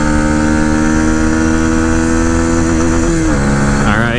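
A CFMOTO motorcycle on a race track screams at high revs in third gear, a loud, dense buzzing whine held steady near the rev limiter before the pitch drops sharply at a gear change.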